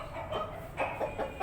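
An Aseel fighting rooster gives a few soft, low clucks in quick succession, close but faint, with light background noise.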